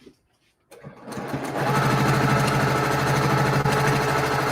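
A sewing machine stitches quilt backing a quarter inch from the edge, running steadily and loudly after a brief quiet start, with a continuous mechanical whir and rapid needle rhythm and no talking.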